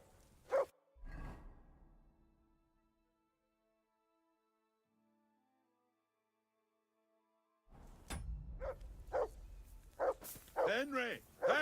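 A dog in Kingdom Come: Deliverance 2 gives a short bark early on, then silence, followed by several sharp barks and yips mixed with a voice talking toward the end.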